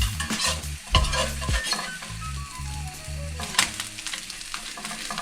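A quesadilla sizzles in a hot pan after being flipped, a steady soft frying hiss broken by a few sharp clinks and scrapes of a utensil against the pan.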